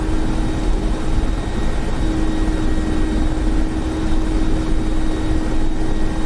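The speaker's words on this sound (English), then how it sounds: "Happens to be a rather big helicopter." A big helicopter engine in a military simulation video game gives a constant, loud mechanical drone with a steady whine and low rumble, with no break or change in pitch.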